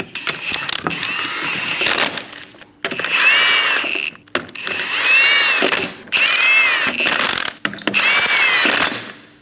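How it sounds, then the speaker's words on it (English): A power tool runs the lug nuts onto a 2008–2015 Scion xB wheel in loud, close whirring bursts with ratcheting, separated by short pauses. "get the lug nuts started, snug them down"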